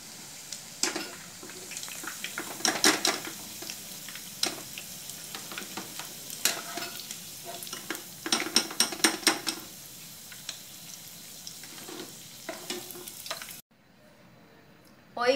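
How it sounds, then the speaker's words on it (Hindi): Soya chunks frying in hot oil in a kadai, with a steady sizzle broken by repeated metallic clinks and scrapes of a spoon stirring and turning them, ending in sudden quiet. "पलट पलट के अच्छी तरह से गोल्डन कलर करके तल के लिया।"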